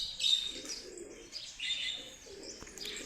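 Pigeons stuck on a high rooftop coo softly in a few repeated throaty calls, with faint chirps and a light flutter in a quiet setting.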